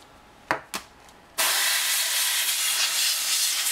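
After a couple of faint taps, a steady, loud hiss of a compressed air duster blowing dust out of a laptop starts abruptly and continues without a break.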